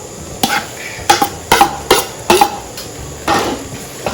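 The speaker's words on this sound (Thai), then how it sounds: "ผัดกะเพราเราสองฮะ" A spatula strikes a pan as holy basil (pad kaphrao) is stir-fried, giving about seven sharp, close metallic clanks in an irregular rhythm with short quiet gaps between them. No voices are heard.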